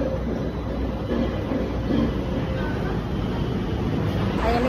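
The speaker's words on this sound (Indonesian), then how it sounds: "Iya, naik kereta." Passenger train in motion heard from onboard, a steady close rumble and rolling hum of the carriage running on rails, continuous and fairly loud from start to end.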